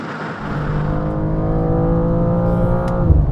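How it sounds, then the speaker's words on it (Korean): A 2024 BMW M2 in Sport Plus mode accelerates hard with a loud, close engine note that climbs steadily in pitch, and a brief shift near the end. "M2 한번 달려보겠습니다. 스포츠 플러스로 돌렸고요."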